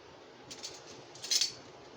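A spoon scrapes and clinks against a cooking pot of spiced masoor lentil dal with chalta, two faint, brief metallic taps over quiet background.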